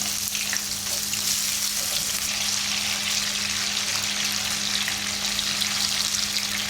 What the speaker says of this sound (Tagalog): ipiprito ko na rin yung ating sibuyas na puti